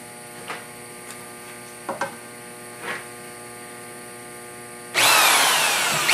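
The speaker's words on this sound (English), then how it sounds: "Drill the hole." A T-Drill HFT-2000 bores a hole: a low mains hum and a few faint clicks give way to a loud, dense grinding whir that starts suddenly near the end and runs on steadily.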